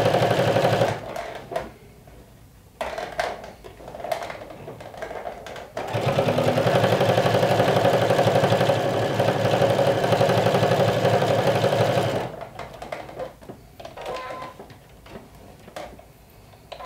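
A sewing machine top-stitches a shirt collar in a long continuous run of fast, even needle clatter, framed by shorter bursts and quieter handling noises before and after.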